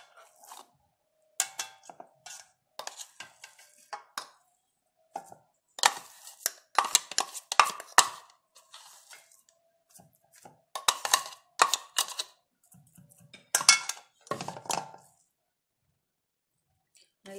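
Meat being minced by hand for Upper Egyptian rice kofta: irregular bursts of sharp chopping and clacking on a board, some quick and clustered and others spaced apart, near and fairly loud, with short pauses between bursts.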